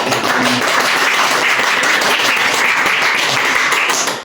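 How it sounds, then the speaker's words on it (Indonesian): A classroom of students claps for a classmate: steady, dense applause from the whole class, loud and continuous until it stops abruptly at the end. "Tepuk tangannya mana untuk saudara Ridwan"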